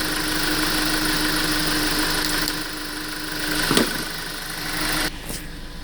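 A Jeep Patriot engine runs steadily at idle while its six-speed F24 automatic transmission is shifted through the gears, a constant mid-pitched hum with a brief clunk near the end.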